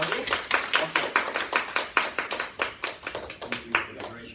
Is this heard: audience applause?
yes